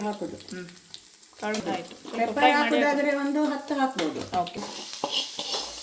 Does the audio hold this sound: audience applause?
no